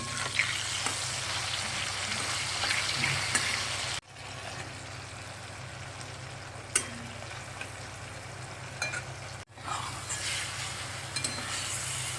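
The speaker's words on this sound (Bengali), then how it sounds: "মশলাটা ভালো করে কষে নিয়ে" Spice masala being fried and stirred in a pan, with a continuous close sizzle and occasional scraping strokes. The sizzle breaks off briefly twice and then resumes.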